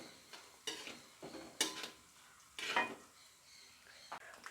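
A spoon stirs fried onion and ginger in a pan for beef pickle, giving quiet, irregular scrapes and soft clinks against the metal over a faint sizzle, close and sparse.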